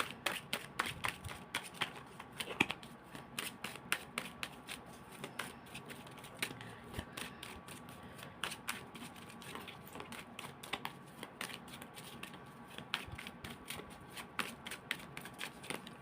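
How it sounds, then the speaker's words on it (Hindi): Tarot cards being shuffled by hand, a soft, steady run of rapid papery riffles and taps that carries on throughout, close and fairly quiet, with no talking. "जब तक मैं शफलिंग कर रही हूँ"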